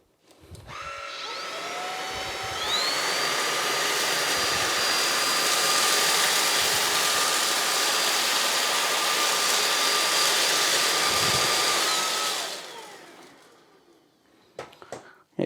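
A MooSoo K17U cordless vacuum cleaner starts up and runs in boost mode, a loud, steady, high-pitched whine with airy rush that holds for about ten seconds before winding down, followed by a few clicks.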